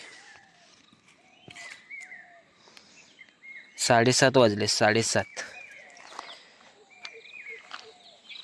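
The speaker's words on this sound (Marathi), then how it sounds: "पक्षी पण ओरडत आहेत आवाज येतोय आपल्याला" Birds call and chirp repeatedly at a distance in the early morning countryside of the Konkan coast, brief scattered notes around a burst of nearby talk in the middle.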